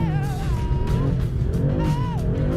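A BMW M4 sliding on a test drive, its tires squealing in sustained wavering tones over a loud, steady engine roar that fills the whole stretch.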